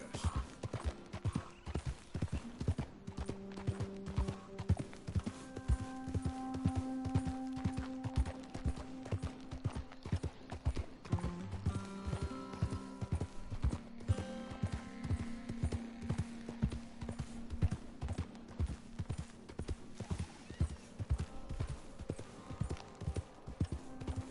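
Horse hooves clip-clop steadily at a gallop in Red Dead Redemption 2, with brief whinnies and a faint scatter of gunfire, backed by a sustained musical tone throughout and no talk.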